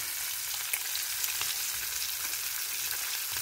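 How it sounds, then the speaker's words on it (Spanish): Dense, steady hissing and crackling of river fish (guapote and choleta) frying in hot oil, close up, with occasional sharper pops and no talking. "Estoy en la fritanga, miren, friendo las choletas del río."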